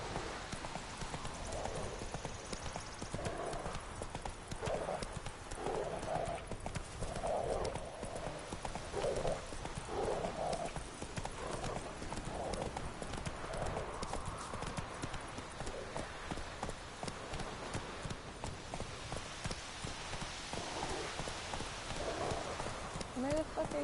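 Horse hooves beat in a steady rhythmic clip-clop as a mount travels in The Witcher 3 video game, continuing under someone talking, with an occasional faint whinny.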